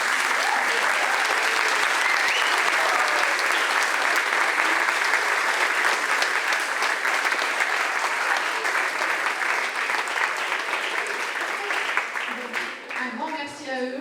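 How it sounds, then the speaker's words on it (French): Assembly at an annual general meeting applauding the staff, a dense, sustained burst of clapping from a large crowd filling the room, fading slightly near the end as voices emerge. "je vous propose d'applaudir"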